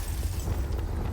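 The Confringo blasting spell explodes in the wizarding game Hogwarts Legacy, a short, loud burst with a heavy low rumble that fills the brief moment without any talk.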